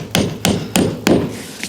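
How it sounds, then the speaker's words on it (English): Black nails are hammered into a wooden fascia board, giving four loud, evenly spaced sharp strikes close by, each with a short ringing decay. "The nails we use for the fascia are these black plus top nails. We're just going to hit them in, they'll go through nice and easy."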